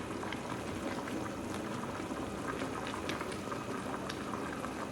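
A pot of liquid on the stove boiling vigorously for a Moroccan meat-with-prunes wedding dish, a dense close bubbling and gurgling that stays even and continuous, with no talk.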